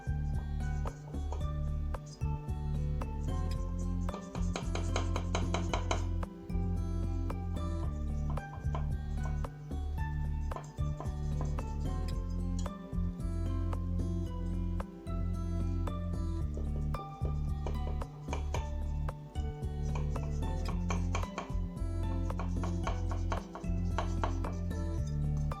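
A knife cuts squares of filo pastry into triangles, giving soft, regular tapping strokes on a board in a steady rhythm, with background music playing throughout.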